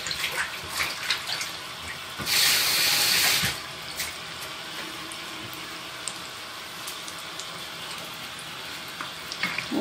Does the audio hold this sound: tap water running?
yes